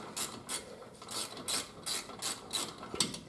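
A ratchet wrench clicks as it turns bolts on a Jeep Cherokee XJ front wheel hub assembly, with about six quick rhythmic bursts of ratcheting close up and no talking.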